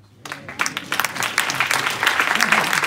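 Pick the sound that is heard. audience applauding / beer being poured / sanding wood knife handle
audience applauding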